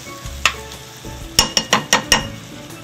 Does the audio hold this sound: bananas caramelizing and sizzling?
yes